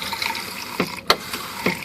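Water runs from a still-working RV bathroom faucet, a steady hiss with a few brief louder splashes and clunks partway through, fairly close and with no talking.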